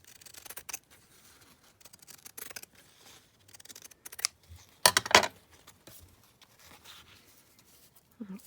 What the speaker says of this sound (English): So just going to snip that down here.